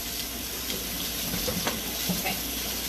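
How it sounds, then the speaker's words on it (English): Canned butter beans are rinsed under a running kitchen tap, giving a steady, fairly quiet hiss of flowing water with a few soft splashes and no voices. "let me just give it a quick rinse, get all that nasty, silty water off of them"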